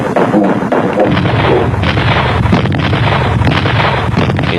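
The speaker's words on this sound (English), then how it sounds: "the pounding of artillery and the pounding of mortar shells" Artillery and mortar shells pounding during the 1967–1970 Biafran civil war, heard as loud, continuous, rumbling booms and bursts that overlap with no pause.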